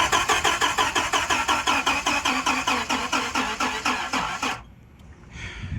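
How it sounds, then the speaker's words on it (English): Dodge Viper engine cranking without catching, the starter churning in a fast regular chug for several seconds before cutting off, leaving quiet with faint noise after. "let me go ahead and crank the engine over"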